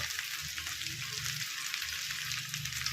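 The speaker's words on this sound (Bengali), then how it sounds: "এবার এটা একটু ভাজা হোক" Batter-coated fish fries in hot oil, giving a continuous close bubbling sizzle with fine crackles, steady and moderately quiet throughout.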